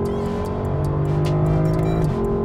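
Lexus LC 500 naturally aspirated engine revving hard through an opened exhaust in manual mode, fourth gear, a loud rising roar with a drop near the end, no talk.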